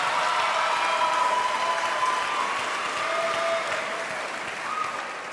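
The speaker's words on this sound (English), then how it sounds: "Give them a round of applause." Audience at a high school commencement applauding for military veterans, sustained crowd clapping heard from across a large venue, steady for several seconds and then tapering slightly near the end.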